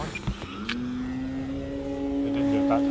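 Electric motor on a balsa-wood Turbo Timber SWS 2.1 m RC airplane spooling up from zero throttle to a steady, rising whine, heard up close with a few handling noises at the start.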